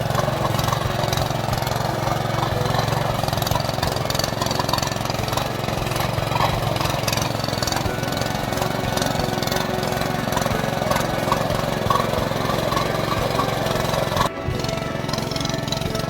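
A small tractor engine ploughs terraced hill fields, running as a steady, loud, continuous drone that holds its level throughout, with one brief dip near the end.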